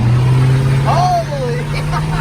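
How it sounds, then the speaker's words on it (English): Engine of a roughly 40-year-old truck idling with a low steady rumble and a brief rising rev, heard close from inside the cab while someone talks. "It's an old truck, dude. Feel the power."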